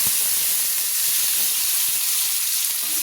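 Chopped garlic and onion sizzling in a pan as they are stirred, a steady close hissing fry with small spoon taps underneath, no talk.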